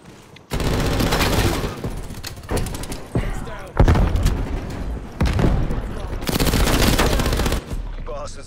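Bursts of M60 machine gun fire in the multiplayer shooter Call of Duty: Black Ops Cold War, loud rapid volleys repeating in several stretches with short gaps, mixed with other battle noise.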